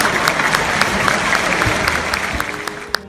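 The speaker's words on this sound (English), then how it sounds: "I recommend they deserve a big round of applause" Audience applause for a team at a DELC 2019 event, a dense, steady wash of many hands clapping at moderate loudness throughout, with no talk over it.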